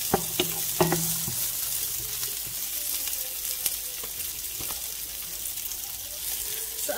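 Garlic sautés in a pan with a continuous close sizzle, joined by a few light clicks and scrapes of stirring, with no talk.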